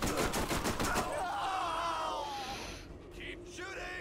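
Rapid gunfire from the shooter video game Borderlands opens the clip with a quick burst of shots, then gives way to fainter game effects and sounds underneath.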